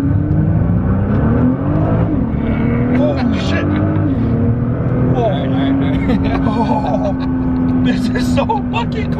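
A supercar with an automatic transmission accelerates hard, its engine rising in a loud, continuous rev close by, while people talk excitedly over it.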